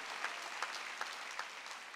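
Church congregation clapping during a Wednesday worship service, a faint, distant patter of many hands with a few sharper claps standing out, no talk over it.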